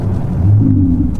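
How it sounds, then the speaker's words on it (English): A Ferrari 488 GTB heard from the cabin gives a brief deep engine rumble as it downshifts, a short low burst that swells and then eases, with no talk over it. "Oh, there's a downshift."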